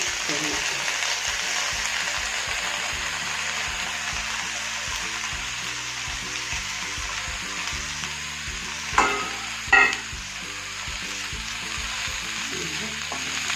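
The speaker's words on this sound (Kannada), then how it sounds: "ಪಾಲಕ್ ಸೊಪ್ಪು ಹಾಕಿ ಚೆನ್ನಾಗಿ ಹುರಿಬೇಕು" Chopped spinach and onion frying in oil for palak pulao, a continuous loud close sizzle with a couple of sharper stirring scrapes partway through.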